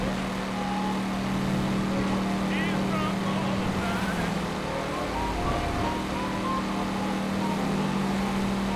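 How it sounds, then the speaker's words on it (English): A car engine in the video game L.A. Noire drones steadily, throaty and continuous with a low rumbling tone, loud and close, with faint overlapping background sounds and no clear talk. "He's got a throaty car."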